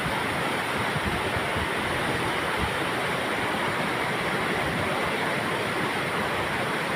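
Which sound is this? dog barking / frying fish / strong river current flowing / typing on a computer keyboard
strong river current flowing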